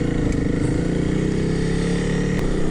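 A Honda CRF300L dual-sport motorcycle rides through town with a steady, close engine drone. Wind rush sits over the engine note, and there is a brief bump near the end.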